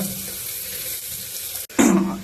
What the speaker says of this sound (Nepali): तेल गरम भइसकेपछि है तपाईँले प्याज लाउनुहोस्। प्याजलाई ब्राउन हुन्जेलसम्म भुट्नुपर्छ।